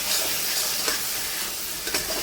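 Spice paste sautéing with prawns in a pan, a dense, steady sizzle close by, with occasional stirring scrapes and no talking.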